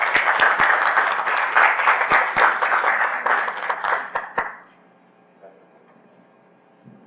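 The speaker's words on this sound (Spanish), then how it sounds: "Entonces recibámoslo con un aplauso" An indoor audience at a film forum applauds loudly for about four seconds, dense clapping close by, then it quickly fades to near quiet with a few faint stray sounds.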